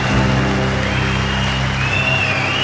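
A boxing arena crowd cheers and applauds a champion's ring entrance, a dense, continuous roar of clapping and voices with a whistle-like tone rising over it, loud and steady throughout.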